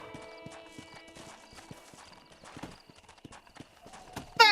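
Wild horse hooves clip-clop at a steady trot in Red Dead Redemption, with a whinny at the start, moderately loud and close, ending in a sharp louder burst.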